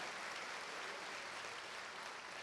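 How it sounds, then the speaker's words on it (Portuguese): A congregation applauds in church during a Sunday service, a steady, even wash of clapping that holds for the whole stretch with no voice over it. "temos que aplaudir a Jesus"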